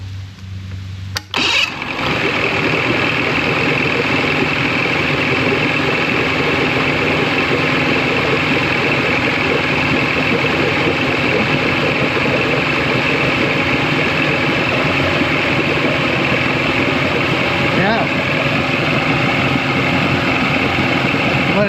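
A 1983 Mercury 50 hp blue-stripe outboard motor cranks and catches after a brief click, then settles into a loud, steady, continuous idle as it warms up, close by and without talk.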